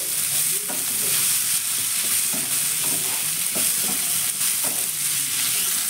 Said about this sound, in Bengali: 1 মিনিট একটু ক্যাপসিকামের সঙ্গে চিকেনটা একটু ভেজে নিব